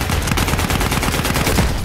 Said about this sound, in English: Literally, it's a machine gun.